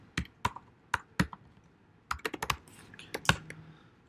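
Someone types a MySQL query on a computer keyboard, producing sharp, close key clicks in uneven bursts of a few strokes separated by short pauses, with no talking.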